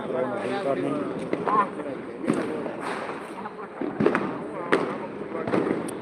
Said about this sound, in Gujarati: અહીંયા પણ ફટાકડા ફોડી રહ્યા છે